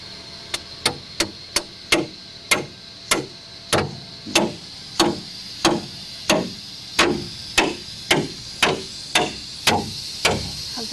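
A two-foot section of rebar being hammered into a pre-drilled hole in an inground swimming pool wall: about twenty sharp, ringing metallic strikes at a steady, even pace, close and loud, with no talking.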